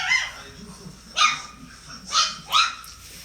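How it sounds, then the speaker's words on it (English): A pet dog named Mistle barks in three or four short, sharp bursts spaced about a second apart, fairly close and clear, with a voice and light room noise faintly underneath. "Who you barking at, Mistle?"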